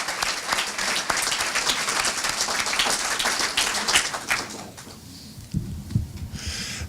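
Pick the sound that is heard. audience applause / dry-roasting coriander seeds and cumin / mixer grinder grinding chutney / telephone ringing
audience applause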